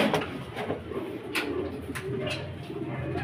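Pigeons coo in a loft in the Philippines, giving several soft, throaty calls close by with a light rustle between them, and nobody talks.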